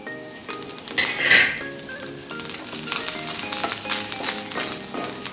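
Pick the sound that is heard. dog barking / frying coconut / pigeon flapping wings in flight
frying coconut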